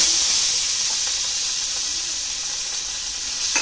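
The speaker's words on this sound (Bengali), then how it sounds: "তো আমি মাছটা এখানে দিয়ে দিলাম তেলের মধ্যে।" Fish frying in hot oil gives a steady close hiss and sizzle throughout, with a faint rattle near the end.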